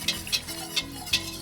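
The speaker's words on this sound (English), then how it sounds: "gradually add 4 cups of milk, a little at a time, while whisking" A whisk ticks against a pan in about four sharp, evenly spaced strokes over a low steady hum as milk is added to a toasted roux.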